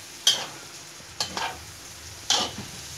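Mushrooms sauté in a pan with ground meat for a cream carbonara, giving a soft background sizzle broken by three sharp stirring scrapes, with no talking.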